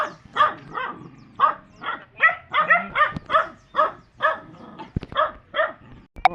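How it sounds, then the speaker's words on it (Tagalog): Several dogs barking in a fairly quick series of loud, close barks, with a few yips mixed in. "oh ayan mga aso po, kalaban po namin mga aso"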